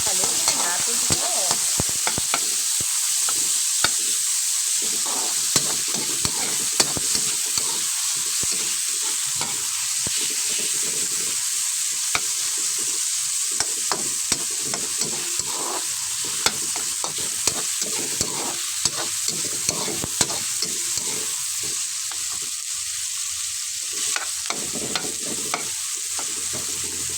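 Food for a sea clam and pechay dish is stirred as it fries in a pan, with a steady, loud sizzle broken by frequent scraping clicks of the utensil that run nonstop throughout.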